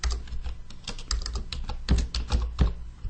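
Rapid typing on a computer keyboard while entering customer master data, with irregular clicky keystrokes at close range, alone and steady for the whole stretch.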